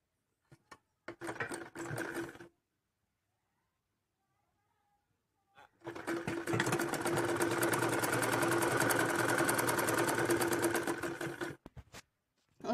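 A sewing machine stitches fabric for a designer blouse sleeve: a short burst of fast, even whirring, a pause of near silence, then a longer steady run of rapid mechanical stitching, close and clear.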